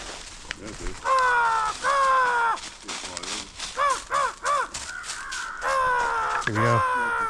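Crows cawing during a spring coastal crow hunt: a series of loud, harsh, repeated caws in close bursts that nearly fill the stretch.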